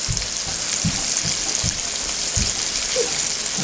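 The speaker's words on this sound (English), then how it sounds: "And it really doesn't take that long to fry because the meat's not very thick." Thin steak fries in hot grease in a full skillet, a loud constant crackling sizzle close to the listener, with a few soft low thumps from handling the pan, and no talking.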